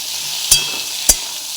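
Potatoes fry for data alu posto, a stem, potato and poppy seed dish, giving a steady close sizzle with two sharp knocks of a utensil against the pan.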